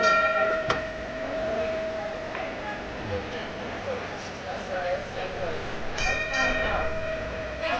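The Red Car Trolley pulls away at Disney California Adventure, with a bright bell clang, a steady rolling rumble and bells chiming again later, while a voice speaks over it.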